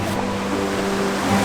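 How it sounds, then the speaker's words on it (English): A waterfall on Bodmin Moor in Cornwall gives a constant, loud rushing roar of falling water with a low hum underneath. "Looks like the waterfall gets a bit steep."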